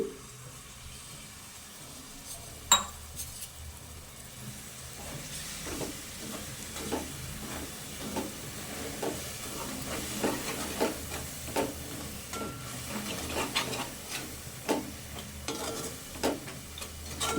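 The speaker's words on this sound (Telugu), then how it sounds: "ఇక్కడ చింతపండు పులుసు పోసుకుంటున్నానండి" Tamarind juice poured into a hot pan while cooking gongura chicken pachadi, giving a soft steady sizzle with scattered stirring clinks and splashes, fairly close and quiet, with no talking.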